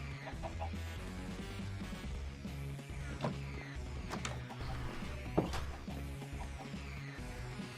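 Chickens cluck in the Minecraft Sky Factory 3 modpack, with repeated short game-fowl clucks and squawks over a steady layered background of game sounds and music, continuous and fairly loud throughout.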